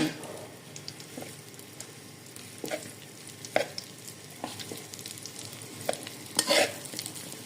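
Dates fry briefly in ghee with a soft, continuous sizzle while a utensil stirs and scrapes the pan, giving irregular clinks and a louder cluster of scrapes near the end.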